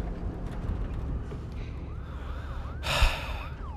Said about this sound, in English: Oh, ambulance.